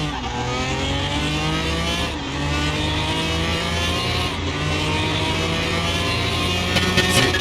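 Twin-turbo Camaro with light tuning in Car Mechanic Simulator 2021, its engine revving hard and steadily through the gears on a quarter-mile run, loud and continuous with rising pitch sweeps.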